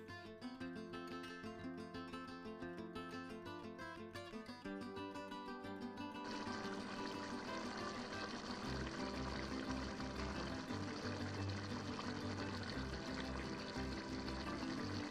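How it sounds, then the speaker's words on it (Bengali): Water poured into simmering curry masala for a banana-flower kofta curry, a steady soft pouring and sizzling wash that continues quietly under faint background music, with no talking. "এবার আমি পরিমাণ মতো জল ঢেলে দিচ্ছি।"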